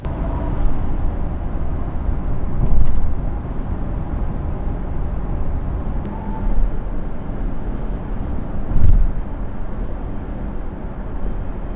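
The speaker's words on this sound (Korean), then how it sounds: "노면 소음은 실내로 유입되었는데 21인치의 휠 크기를 생각한다면 정숙한 주행 소음이라고 생각됩니다" Road noise fills the cabin of a Lincoln Nautilus on 21-inch wheels while driving, a steady low rumble with a couple of soft thumps from bumps in the road and no talking.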